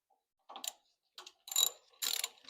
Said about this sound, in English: we're gonna use a 8mm socket to take these off because they're threaded